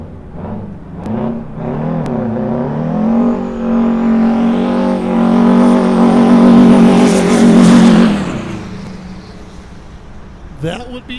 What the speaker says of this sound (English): That would be the legend Wayne Talkington with a burnout